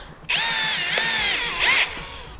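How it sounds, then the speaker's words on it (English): A power drill bores through a camper van's roof, its motor whining steadily for about a second and a half with a brief louder surge near the end. It is close and loud, with no talk over it. "Blue Seas says to make this wet when you're drilling."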